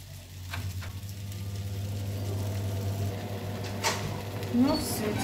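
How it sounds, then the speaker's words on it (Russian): Fish fries in a heated pan in a home kitchen in Turkey, giving a steady, close sizzle throughout, with a few light clatters of utensils and someone talking over it. "Сейчас мы будем жарить нашу рыбку."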